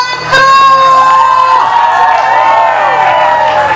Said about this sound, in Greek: Ένα χειροκρότημα παρακαλώ.